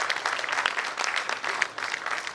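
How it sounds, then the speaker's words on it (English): A conference audience at a tourism and blogging event claps, a short, busy burst of applause with individual claps close by and steady throughout. "So can we have a round of applause for them,"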